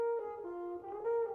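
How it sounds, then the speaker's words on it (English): A French horn in a children's cartoon plays a short, mellow sustained phrase that bends in pitch, clear and alone. "The French horn sounds like this."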